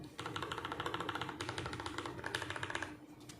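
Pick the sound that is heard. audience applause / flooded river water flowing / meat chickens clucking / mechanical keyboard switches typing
mechanical keyboard switches typing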